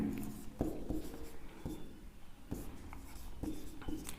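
Chalk or marker writing on a board in a classroom during a Hindi grammar lesson, a series of faint, close strokes and taps spaced unevenly over a steady hum of room noise.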